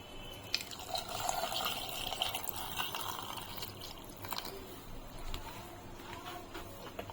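Water pours into a cooking pot holding tomato, salt and turmeric, a soft, faint splashing and trickling over low background hum, with a few light clinks.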